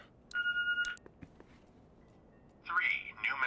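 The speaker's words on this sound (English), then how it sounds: "Oh, it is a phone we're hearing." A telephone rings in a video game: two short electronic ring bursts, one near the start and another near the end, fairly loud with quiet room tone between them.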